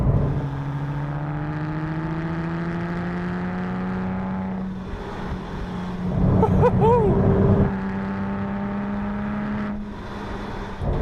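A Porsche 911 997 GT2 RS drives along open scenic roads, its engine a steady sustained drone that shifts pitch gradually, with a brief louder burst midway, heard close and continuous.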